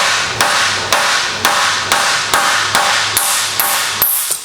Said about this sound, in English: let's hammer these out and get back on it